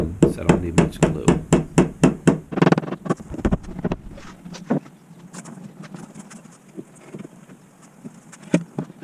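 Snug-fitting wooden parts being tapped into dados during a shoe and storage bench build: a rapid series of sharp knocks in the first few seconds, then scattered lighter taps over outdoor background noise.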